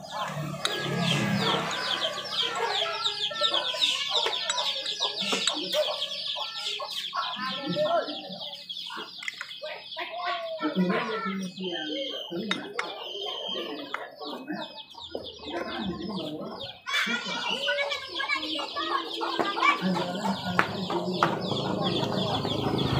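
Chickens cluck and chatter almost constantly, fairly close, with busy overlapping calls and some background clatter from motorbike repair work on a Yamaha Fino; a person speaks briefly amid them.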